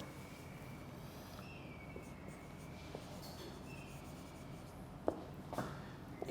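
Writing on a board during an English lecture, a faint steady scratching under a low room hum, with a couple of sharper taps near the end.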